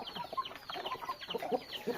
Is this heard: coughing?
no